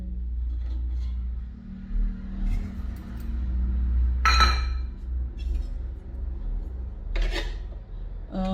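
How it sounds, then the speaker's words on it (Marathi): Semolina (rava) roasting in ghee in a pan. A spoon scrapes and clinks against the metal at intervals over a steady low hum, close by and with no talk. "घालून हा रवा आपल्याला मस्त एकदम खरपूस भाजून घ्यायचा आहे"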